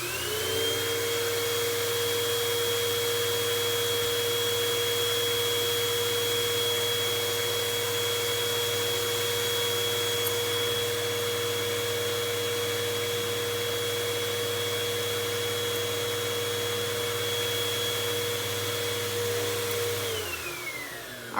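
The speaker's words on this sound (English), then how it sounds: "it should be able to work the vacuum" A vacuum cleaner powered by a Growatt 1500-watt portable power station runs continuously at a steady, loud whine with a constant drone, then winds down near the end; no talking.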